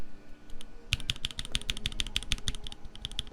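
Typing on a Lightweight65 prototype keyboard fitted with Gateron Raw switches, a fast, close run of crisp clacky keystrokes after a brief quiet start, with no talking.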